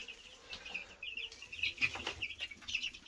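Ten-day-old Siberian feather-footed chicks peep in rapid, overlapping high cheeps, close and clear, with no talking.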